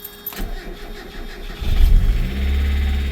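A Mazda Miata with a seized clutch cranks briefly with a short burst, then its engine catches and settles into a loud, steady low idle.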